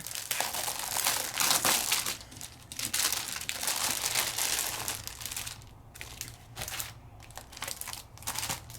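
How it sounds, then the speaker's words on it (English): Paper crinkling and rustling as a Jungle Party paper pad is handled, a steady close run of crumpling and crackling with brief pauses and no talk. "Okay, so I've got the Jungle Party paper pad."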